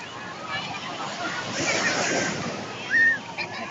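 Sea waves roll onto a white-sand beach at Pacific Sky Beach Resort in Morong, Bataan, a continuous surf wash that swells midway. Voices chatter nearby, and one speaks up close near the end.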